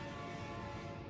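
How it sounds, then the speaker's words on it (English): A train in the Factorio video game rumbles past steadily, a continuous mid-level mechanical drone with no voices over it. "That is a train."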